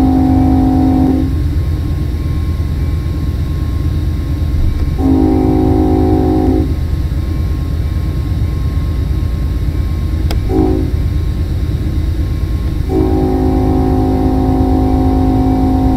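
A freight train in the Run8 train simulator game climbs a hill with a steady, loud engine drone. Several long horn blasts sound over it, with no talking.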